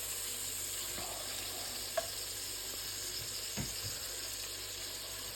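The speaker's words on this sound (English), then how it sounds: "And the bacon releasing all of its fat to cook the onions in later." Bacon frying in a pan while a sausage casserole is being made, a steady soft sizzle running throughout with a couple of faint clinks and scrapes from stirring.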